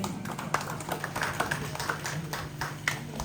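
A crowd at a prize-giving ceremony during a temple anniversary festival claps in light, scattered applause, with distinct hand claps standing out over a low room hum.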